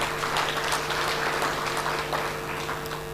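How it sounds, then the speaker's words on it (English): Applause from an audience at a national payments strategy launch, a steady dense patter of many hands filling the room throughout, with a constant electrical hum underneath. "let us appreciate them with a loud of applause"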